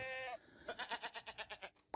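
A goat gives one wavering, pulsing bleat up close, its voice shaking in quick regular beats for about a second with nothing else over it.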